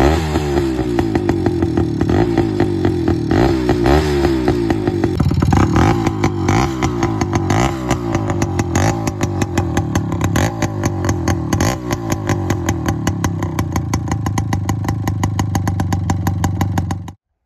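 A Suzuki Samurai motorcycle engine with a two-stroke note, revved repeatedly in sharp rising bursts over a rattling idle, close and loud throughout.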